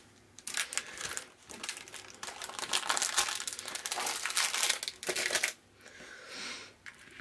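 Plastic ribbon package crinkles loudly and continuously up close as a trimmed length of ribbon is tucked back inside, with a brief pause near the end before the rustling resumes.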